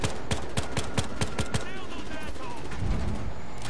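Rapid video game gunfire, a rhythmic string of loud, evenly spaced shots that stops after about a second and a half, leaving busy game noise and a talking voice.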